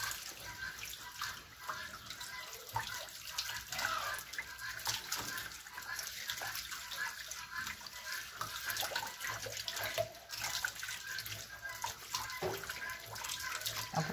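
Tap water runs continuously while a pork intestine is rinsed, a steady close splashing and trickling that holds at an even level throughout.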